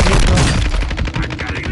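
Loud automatic gunfire in Warzone, a dense burst of close rapid shots hammering for under two seconds without speech.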